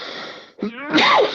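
A single sharp sneeze bursts out after a moment of talk, loud and close, followed by a brief breathy tail.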